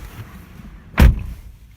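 A Toyota C-HR crossover coupe's door is shut with one solid, close thump in a quiet interior, with faint rustle before and after.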